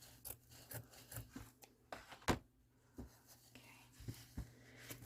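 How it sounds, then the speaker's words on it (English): Scissors cut through craft material laid over styrofoam for a gnome project, giving a series of soft, close snips and rubbing scrapes under quiet, whispery talk. "So we're just going to overlap and cut it straight up again."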